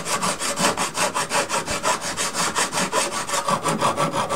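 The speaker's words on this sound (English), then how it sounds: "This area also needs a little filing, just to make sure the front deck fits smoothly." A file is worked back and forth on the wooden deck of a Kestral 25 model boat kit. About twenty quick, evenly spaced rasping strokes are heard up close, with no voices.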